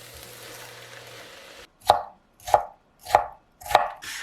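A knife chops ten garlic cloves on a cutting board in four sharp, evenly spaced strikes after a quiet stretch of faint kitchen background.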